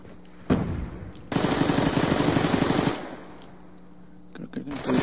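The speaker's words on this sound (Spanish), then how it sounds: "Creo que alguien está disparando" Call of Duty: Black Ops 2 gunfire: a single sharp shot, then a long rapid automatic burst lasting over a second, followed by a few scattered shots.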